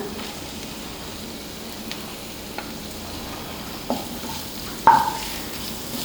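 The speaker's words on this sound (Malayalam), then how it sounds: "ഒരു പച്ചമുളക് കുറച്ച് കറിവേപ്പിലയും കൂടെ ഇട്ട് നമുക്കൊന്ന് വഴറ്റാം ഇതിലേക്ക് ഒരു വലിയ സവാള നീളത്തിലരിഞ്ഞത് ചേർത്ത് കൊടുക്കാം" Sliced onion with green chili and curry leaves sautéing in a pan, a low steady sizzle broken by a few sharp utensil taps and scrapes, the last one loudest.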